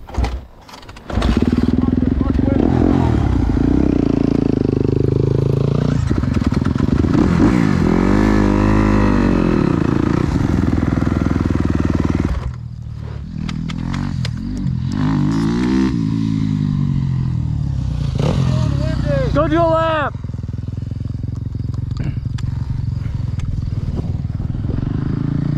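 A motorcycle accelerates hard in third gear out of a corner toward a jump, its loud, close engine revving and climbing in pitch for about twelve seconds, then easing to a steadier drone with further rev swells.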